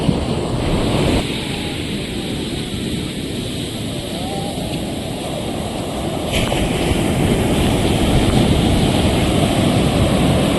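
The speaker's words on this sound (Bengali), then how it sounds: "চারিদিকে যা সমুদ্রের আওয়াজ আর সমুদ্রের দৃশ্য" Sea waves breaking on a shore near Puri, a continuous loud roar of surf mixed with wind buffeting, steady and swelling slightly toward the end.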